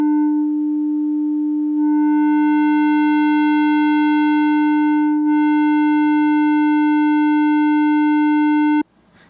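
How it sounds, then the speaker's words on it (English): A sine wave run through a Vocodec distortion preset: a buzzy, distorted tone rich in overtones, like a rounded square wave, holds steady and loud, its brightness swelling and fading before it cuts off. "it gives you kind of a softened square wave out of a sine wave input here"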